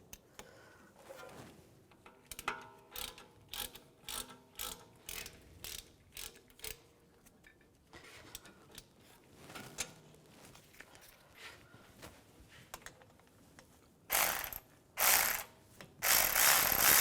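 A ratchet wrench clicks in quick repeated bursts while tightening front brake caliper bolts on a 2004-2010 BMW X3, with short pauses between strokes and a louder, denser run of ratcheting near the end.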